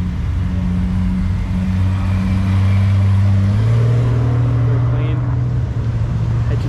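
Steady low engine rumble from a Ford Cortina at a car meet, loud and close, with the pitch stepping up partway through as it idles and revs amid crowd noise and talk.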